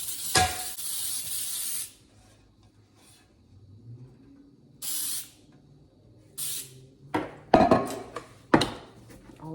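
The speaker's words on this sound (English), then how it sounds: "I'm spraying it with Baker's Joy because I don't think just regular cooking spray is going to work with a bundt pan" Baker's Joy baking spray hissed into a bundt pan in several short bursts, the first long and loud, then shorter sprays separated by quiet pauses, close up, with light clatter and handling noises near the end.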